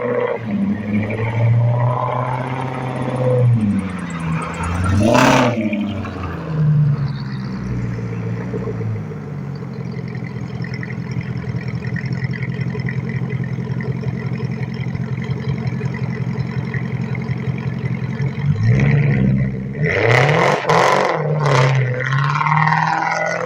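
A Mercedes car engine rises in a loud, harmonic rev, settles into a steady sustained drone, then surges sharply again in a couple of quick revs near the end.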